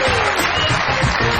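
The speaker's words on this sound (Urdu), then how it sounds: "بہت ساری تالیوں میں ویلکم کہتے ہیں" A television comedy show's studio audience applauds continuously to welcome a guest, a dense, close burst of clapping with crowd noise.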